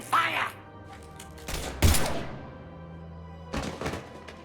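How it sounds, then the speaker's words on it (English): Gunfire in the video game Mass Effect 3 Legendary Edition: two loud broadband bursts of shots, about half a second each, separated by a pause, with game characters talking at the start. "Now open fire!"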